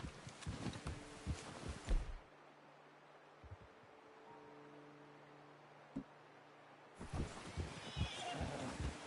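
A horse in the Red Dead Redemption 2 video game whinnies and its hooves clop over the ground in two busy bursts of game sound, with a long quiet stretch between them.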